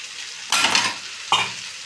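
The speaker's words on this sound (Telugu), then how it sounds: "ఇప్పుడైతే మనము చికెన్ వేసుకున్నాం దీంట్లోకి" Chicken for egg noodles stir-fries in a hot pan, with two bursts of loud scraping and sizzling as it is tossed, close up, over a steady background frying hiss.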